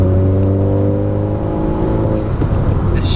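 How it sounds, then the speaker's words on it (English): Honda Civic Type R engine blipping with automatic rev matching, a loud steady drone inside the cabin that swells briefly as revs rise during a shift. "That's so cool, the automatic rev match."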